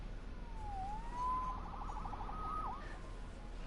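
A police siren wails in the Marvel's Spider-Man video game, a single rising-and-falling sweep followed by rapid yelping warbles, heard faintly at a distance with no talk over it.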